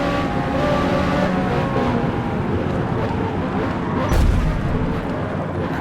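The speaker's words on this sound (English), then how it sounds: "Just could not avoid that collision" Race cars collide in Forza Motorsport at Mugello, a Ferrari trading paint with amateur-driver cars; a steady loud engine roar fills the track with a sharp thudding impact near the end.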